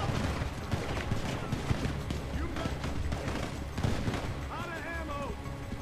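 Gunfire in the GTA Online heist mission High Priority Case, a dense run of shots and bursts with background game sounds and voices talking over it.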